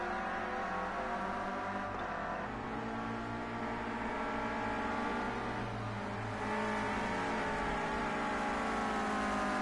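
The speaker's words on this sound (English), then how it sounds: "A little Clio Cup around this Germany circuit." Renault Clio Cup race cars lapping a circuit in Germany: a sustained engine drone with shifting revs, steady and fairly distant, building slightly louder toward the end, no voices.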